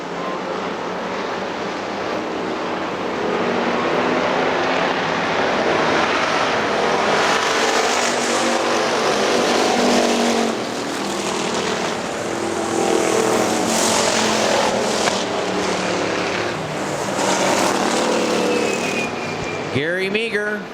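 Factory stock race cars roaring around Hartford Speedway, a loud continuous engine drone from the pack as they run down the back straightaway, with a race announcer calling positions over the noise.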